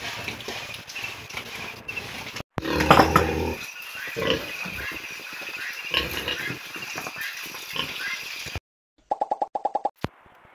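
Large sows on a Brazilian farm grunt loudly and close by, a cluster of deep snorts and rough grunts early on followed by scattered quieter grunting and shuffling, then a short burst of rapid repeated sounds near the end.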